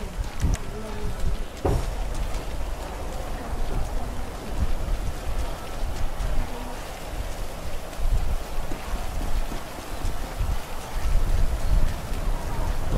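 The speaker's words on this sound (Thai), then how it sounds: "ตอนนี้ลมแรงมากฝนตก" Steady rain and gusting wind fill a GTA V game scene, a dense, continuous hiss with a few sharper knocks near the start, held at an even, fairly loud level throughout.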